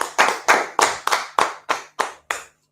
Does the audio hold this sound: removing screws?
no